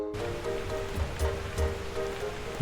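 Steady rain patters on a surface, with scattered louder drops landing close by over a continuous wash of noise.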